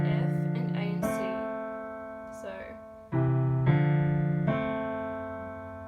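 Left-hand piano dyads from a theme sound in a slow sequence of low two-note chords, each struck and held, with a faint voice murmuring briefly between them.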